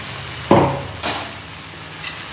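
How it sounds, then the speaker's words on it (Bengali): A paste of ginger, green chili, garlic and white mustard hits hot oil with a sharp sizzling burst, then a softer second hiss as it is stirred, close by, fading to a low simmer. "এবার এটাকেও ভালো করে কষে নেব যতক্ষণ না মশলা থেকে তেল ছাড়ছে"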